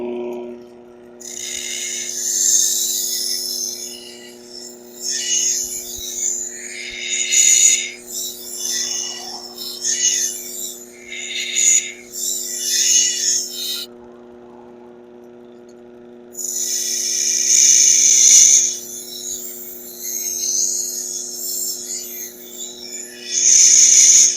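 A belt grinder fitted with a 4000 grit belt hums steadily while a knife blade is pressed against it in repeated rasping, hissing passes with short pauses between strokes, heard up close.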